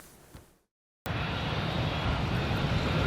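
Air Force One, a jet in light-blue livery, lands at Beijing Capital Airport in the evening. After a brief silence, a loud, steady jet-engine roar starts abruptly and holds.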